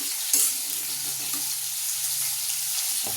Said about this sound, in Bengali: তো এখানে মাছটা ভাজা হচ্ছে, মাছটা ভাজা হচ্ছে।